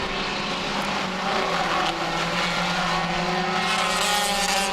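Several race cars roar around an oval short track, one passing on the outside, their engines a loud, continuous droning whine with steady harmonics and no voices.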